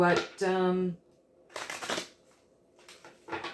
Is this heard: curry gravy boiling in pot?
no